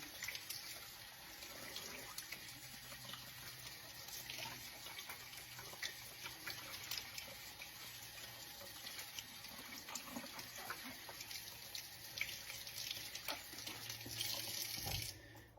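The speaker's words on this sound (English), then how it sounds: "I'm gonna come over to my sink here. And I'm just gonna rinse it off." Water runs steadily from a sink faucet as a dive mask is rinsed off, a continuous close splashing hiss with small fluctuations where the stream hits the object, no talking.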